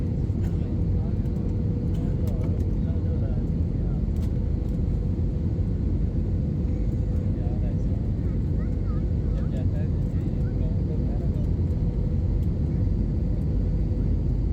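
Inside the cabin of an Air Blue airliner landing at Lahore airport, a loud, steady low engine and airflow rumble drones without pause, with faint talk under it.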